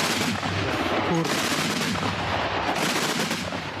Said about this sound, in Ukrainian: то зараз працює артилерія